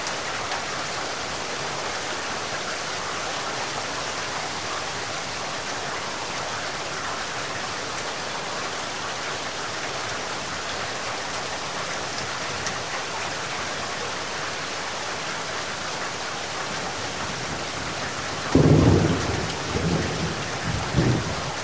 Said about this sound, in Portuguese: E nós vamos tratar aqui agora do som da chuva.